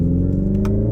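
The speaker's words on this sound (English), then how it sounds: "So if I drop down a gear now, and it actually has the jolts as though you're going through the real gearbox." Hyundai Ioniq 5 N electric car at Pikes Peak, its simulated engine sound dropping a gear: a steady, loud low synthetic engine rumble and whir holding throughout, with a couple of faint brief clicks on top and no talk.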